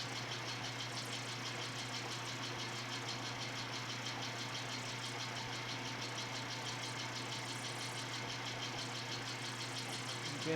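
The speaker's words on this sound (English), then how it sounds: "just shove the reamer in until it makes contact and then lock down the tailstock" Lathe turning a rimfire .22 rifle barrel while a reamer cuts the chamber, a steady, continuous machine hum with a mechanical drone and fine rattling throughout, no talking.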